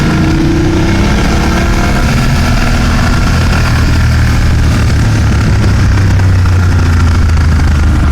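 A BMW GS motorcycle engine while riding, a loud steady drone that rises and falls in pitch with throttle, with wind rush throughout and no talk.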